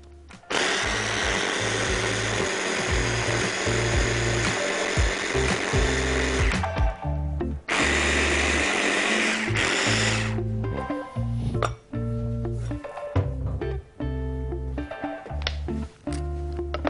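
Blender whirring loudly as it beats butter with marinade ingredients for steak, a long steady high-speed run followed by a shorter burst and then choppier stop-start pulses, with no talk.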